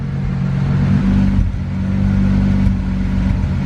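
A car engine idles and revs unevenly during tuning, a loud, steady low drone with a brief dip near the middle that suggests a misfire, heard alone without talk.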